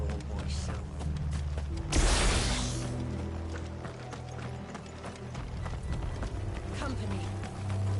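Horses gallop in the Final Fantasy 16 video game, their hooves giving busy clip-clop rhythms over a rumbling battle soundscape with a loud burst near two seconds, while someone speaks over it.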